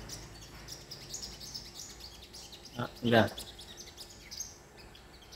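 A caged sunbird gives a couple of short, sharp chirps near the middle, close by, while someone talks quietly around them.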